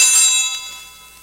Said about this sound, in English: When the priest spreads his hands flat over the chalice, the server rings the bell once.